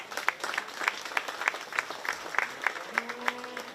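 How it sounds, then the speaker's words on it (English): Applause from a small crowd at a county fair 4-H beef show, with distinct individual claps popping out in a fairly regular rhythm over a softer wash of clapping, moderately near, and a voice briefly speaking near the end. "Please give those kids a round of applause."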